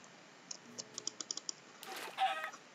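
Minecraft chickens cluck in a quick string of short, soft blips, then a louder, busier flutter of squawks follows near the end, all faint and without voices.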